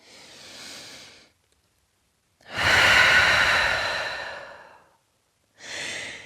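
Deep breathing up close: a slow inhale, a long, heavy exhale like a sigh, then another breath starting, with quiet pauses between.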